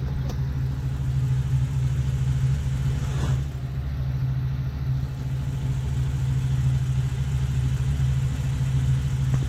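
A warmed-up car engine idles low at about 525 RPM, a steady, close, even rumble that holds unchanged throughout with no voices.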